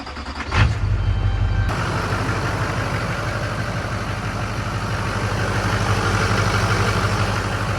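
An LB7 diesel pickup truck engine fitted with a Banks Ram Air intake and PPE boost increase valve cranks and catches, then settles into a steady, loud diesel idle that continues without change.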